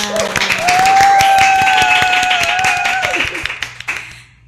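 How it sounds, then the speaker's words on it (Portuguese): Close, loud audience applause opens a Brazilian podcast recorded at an autism event, a burst of clapping under a sustained tone that fades and cuts off near the end. "Uma salva de palmas!"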